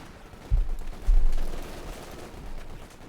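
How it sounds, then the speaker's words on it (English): Bren machine guns fire from under camo netting in a Company of Heroes 2 battle, two low, booming bursts of gunfire followed by a fading rumble. "Bren guns blazing away there from under the camo netting there."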